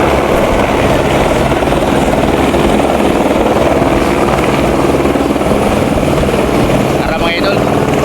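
A helicopter lands close by, its rotor and engine making a loud, constant chop and roar, while people talk over the noise.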